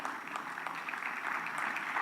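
Faint, distant clapping from a conference audience at a sustainability summit keynote, a soft steady patter of many hands in a large room.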